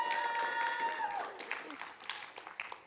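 A friendly audience at a martial arts black belt test applauds steadily, the clapping fading slowly toward the end, with a voice briefly audible at the start.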